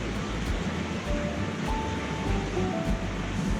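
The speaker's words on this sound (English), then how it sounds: "That's the waterfall." Steady broadband roar of the Yosemite waterfall, heard from a steep stepped trail in September, continuous and moderately loud with no clear voices over it.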